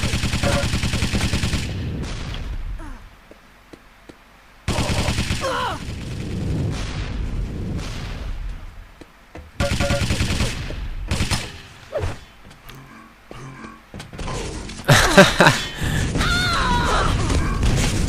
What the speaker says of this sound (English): Good rockets from Chris as well